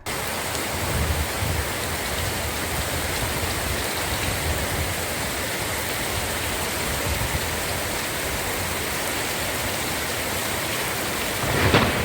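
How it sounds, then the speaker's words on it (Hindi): Heavy, unseasonal rain pours down steadily in a thunderstorm over villages in Gujarat's Jhagadia taluka, a dense, loud, unbroken roar with low rumbling thunder underneath that swells slightly near the end. "बिजली के कड़ाकों भड़ाकों के साथ बारिश टूट पड़ी"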